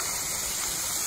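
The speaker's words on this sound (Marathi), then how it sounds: "तिथे मोठी पाईपलाईन फुटलेली आहे।" Drinking water gushing from a burst main pipeline beside a road, a loud, close, continuous rushing roar that fills the whole moment with no voices.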